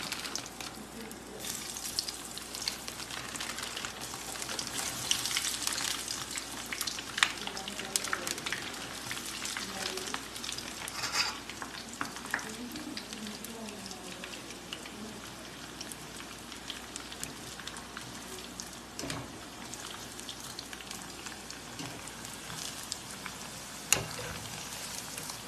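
Cheese balls deep-frying in hot oil at home, a steady dense sizzle and crackle running throughout with occasional louder pops, close and continuous with no talking.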